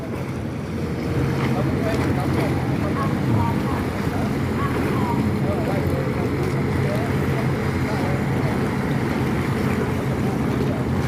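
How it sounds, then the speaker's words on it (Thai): Ferry crossing the Chao Phraya River at Tha Din Daeng toward Ratchawong, with a steady engine drone, water wash and wind buffeting the microphone, continuous and fairly loud. "ชมบรรยากาศเรือข้ามฟากนะครับเนี่ย ไปราชวงศ์เรือข้ามฟากนี่จะไปราชวงศ์นะครับ"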